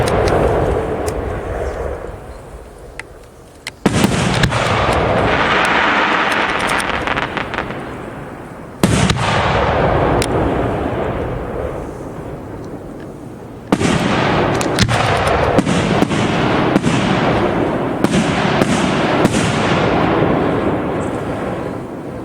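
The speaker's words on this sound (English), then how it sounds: "Next up, we have some 5-inch Young Feng shells." 5-inch Yung Feng firework shells burst in three loud booms a few seconds apart, each followed by a long crackling, sizzling tail that fades before the next shell.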